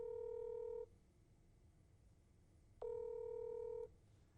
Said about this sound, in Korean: 네, 이번에는 그 속보 플랫폼 중에 코인리스의 이승환 대표님한테 한번 전화를 걸어보도록 하겠습니다.